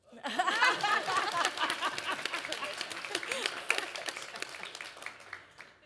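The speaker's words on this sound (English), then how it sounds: "You can clap." Scattered clapping and light laughter from a small audience at a women's panel discussion, with a voice talking over it near the start, fading gradually.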